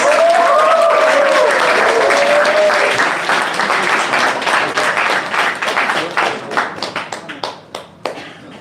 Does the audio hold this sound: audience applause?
yes